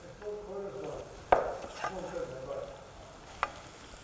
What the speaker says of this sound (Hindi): इसमें डाल देंगे हल्का सा सौते करेंगे ओके हल्के से घुमाएंगे